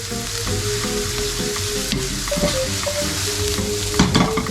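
Garlic frying on high heat for tomato meatball spaghetti, a loud constant sizzle with occasional spatula stirs and scrapes, close-up and uninterrupted.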